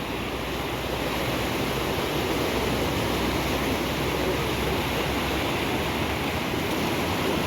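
The Tista River at Melli in flood, its fast water rushing in a steady, loud, close roar that holds unbroken throughout with no voices.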